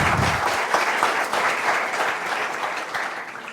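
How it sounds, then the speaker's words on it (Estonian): Audience at a student company competition stage show giving a short round of applause, dense clapping that starts strong and gradually fades over a few seconds. "Teeme väikse aplausiga."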